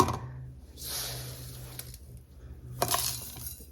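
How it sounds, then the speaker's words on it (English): Dried herbs are poured into a glass jar with a flip latch, giving a few soft rustling pours and a brief clink of glass near the end, close and fairly quiet over a low steady hum. "So the rest of this, we're going to put in this jar that has a flip latch on"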